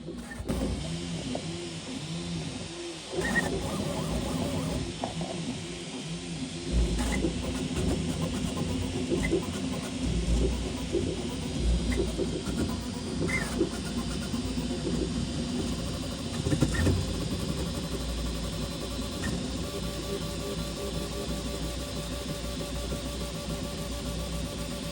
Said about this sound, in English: And let's stop the 3D printer.